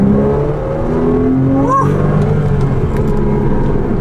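Exhaust of a mid-engine sports car of about 300 horsepower, weighing roughly 2,975 pounds, revving in second gear: a loud, continuous engine note rising in pitch, heard from inside the car with a voice partly over it.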